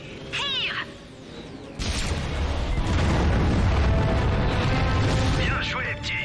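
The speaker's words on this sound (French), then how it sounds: "charge le canon. Le canon est prêt." Cannon blast in the Ratchet & Clank PS4 game: a sudden loud boom that rolls into a sustained, roaring wash of rumble and debris, with brief voice-like chirps before and after.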